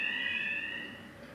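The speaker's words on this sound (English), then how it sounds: "that's the fire alarm" A fire alarm sounds inside a cake-decorating workspace, a steady piercing high electronic tone that holds continuously, loud and close, then eases slightly toward the end.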